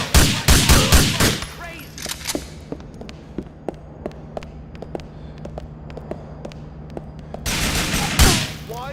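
Grand Theft Auto IV gunfire, a rapid loud volley at the start followed by a long string of sharp single shots ticking steadily at a distance, then another close burst near the end over a low steady hum.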